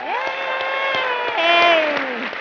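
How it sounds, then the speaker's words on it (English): Applause from the audience at the CHI 2017 conference closing ceremony sits beneath a loud, drawn-out cheering voice, with separate claps audible through it. "Let's give them a round of applause"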